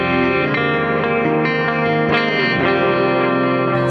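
Electric guitar played through a GE250 amp modeler with its high cut filter switched off, giving a bright, effects-laden tone with repeated strummed chords and ringing sustain, loud and alone with no talking.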